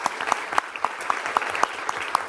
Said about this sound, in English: So if we could give her a round of applause.